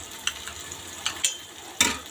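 A spoon stirs spiced village-style eggplant bharta with red chilli, salt and turmeric in a pan, giving a few sharp scraping strokes over a steady soft sizzle, close and quiet, with no voices.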